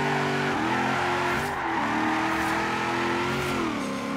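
HSV GTS Maloo pickup truck in Forza Horizon 3, its engine revving loud and continuous with rising and falling pitch sweeps as it accelerates and shifts through gears, with no talk over it.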